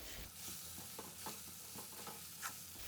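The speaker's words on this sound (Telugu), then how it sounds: "ఆనియన్స్ బ్రౌన్ కలర్లో వచ్చేంత వరకు వేగాలి" Onions fry in a pan for onion karam, a soft, distant sizzle with light stirring scrapes repeating every half second or so.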